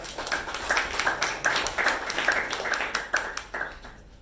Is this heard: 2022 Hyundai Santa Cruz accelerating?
no